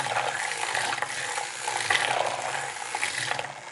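Quiet liquid splashing and churning in a spinning makeup brush cleaner blends with a mechanical whirring and ticking, a continuous wet, spinning sound throughout.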